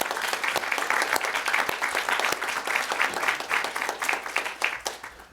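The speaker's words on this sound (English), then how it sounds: "could I ask you for a round of applause, please?" A symposium audience at a museum event gives a round of applause, a full continuous wash of many hands clapping that rolls on evenly and fairly loud throughout.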